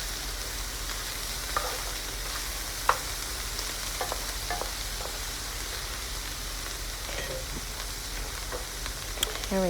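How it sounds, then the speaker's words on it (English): Green beans and flakes are stirred in a skillet over a steady, dense frying sizzle that runs throughout, with light scraping and clicking of the utensil against the pan. "I'm just going to stir it around and get it all mixed up with the green beans that I have in the skillet right there."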